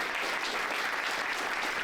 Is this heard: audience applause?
yes